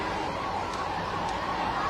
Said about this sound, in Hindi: जरा ये एम्बुलेंस को जगह दो भाई